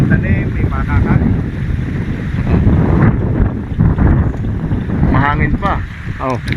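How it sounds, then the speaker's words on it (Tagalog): Steady wind rushing and buffeting the microphone outdoors on a farm, loud and continuous, with people talking intermittently over it. "Mahangin pa. Oh. Presko pa yung hangin."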